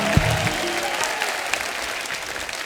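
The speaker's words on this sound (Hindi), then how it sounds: "एक बार जोरदार तालियां हमारे मेहमानों के लिए हो जाएं।" Studio audience applause for guests on a Hindi comedy talk show, a steady wash of many hands clapping close and full for under three seconds, with faint voices mixed in.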